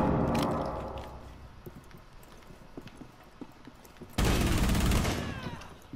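Gunfire from a high-recoil gun in Rainbow Six Siege, a burst of rapid automatic shots cutting in loudly near the end after a stretch of quieter clatter.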